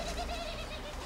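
Pigeons coo steadily close by, soft throaty calls repeating over a constant background hum, with no talk.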